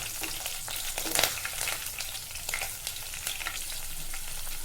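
Green chilies frying and being stirred in a pan for mutton boti curry, a steady close sizzle with scraping stir strokes and brief louder bursts throughout, no talking.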